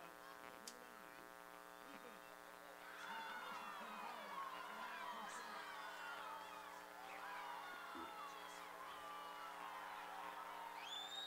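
Crowd noise from the stands at a college football game between DC3 and Hutchinson, with children's voices faintly audible beneath the crowd mic and a steady electrical hum running throughout.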